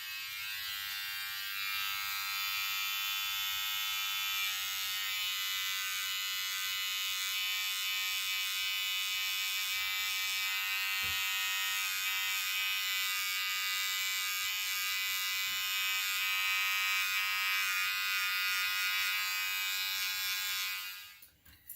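An electric hair trimmer buzzes steadily and close up while it trims the back of the hair, a constant high whine that holds for about twenty seconds before it cuts off.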